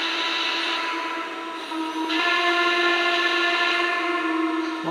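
A steady, shrill whistle blows continuously for a few seconds, loud and close with a hissing steam edge, from a Lionel Vision model N&W Class A 1210 steam locomotive.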